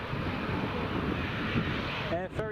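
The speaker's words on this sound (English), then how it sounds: "Here's the Embraer 170 now." An Air France Embraer 170 airliner approaching to land at Newcastle Airport in a crosswind, a steady distant jet roar with broadband rumble, and a voice briefly speaking near the end.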